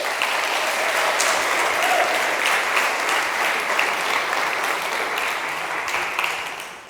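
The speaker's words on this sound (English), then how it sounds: "So can I get an applause for all of them?" Sustained audience applause at a tech conference talk, dense steady clapping from a crowd filling the room for about seven seconds before tapering off at the end.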